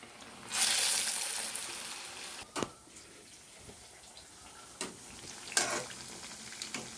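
Small moong dal vadas frying in hot oil, with a steady broadband sizzle that flares loudly as batter drops in, then settles, broken by a few sharp clinks and scrapes of a utensil.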